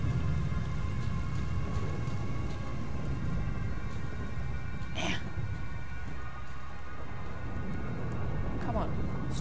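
Steady rain pours at night in the STALKER Call of the Zone video game, a dense continuous hiss with a low rumble of thunder beneath and a few sharp crackles.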